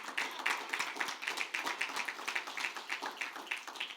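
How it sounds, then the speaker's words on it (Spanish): A church congregation applauds, scattered hand claps forming a light, fairly quiet patter that continues steadily throughout without talk. "un aplauso para mi papá."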